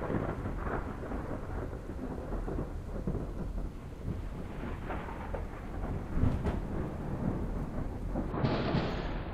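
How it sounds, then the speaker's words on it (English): Rolling thunder over steady heavy rain in the sci-fi video game Stasis, a continuous dense wash of rainfall with deep rumbles swelling and a sharper crack near the end, no voices. "I still don't understand why there's thunder and lightning, but I'm assuming it's because we're in the planet"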